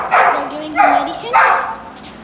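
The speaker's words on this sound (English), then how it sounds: "this is our Harlequin Great Dane Hector." A Harlequin Great Dane gives three loud, close barks at a steady pace while playing.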